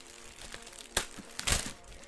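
A Rick and Morty T-shirt being unwrapped from its plastic packaging: close crinkling and rustling with two sharper crackling bursts, no voices.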